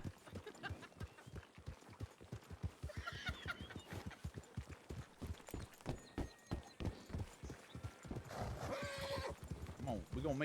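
Horses clip-clop steadily on hard ground with repeated whinnies and neighs, close and clear while people talk over them.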